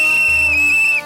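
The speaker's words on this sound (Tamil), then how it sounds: "பங்காளி விசில் அடிச்சுட்டாங்க" A referee's whistle at a kabaddi match gives one loud, sustained shrill blast lasting about a second, clear and close with no talk over it.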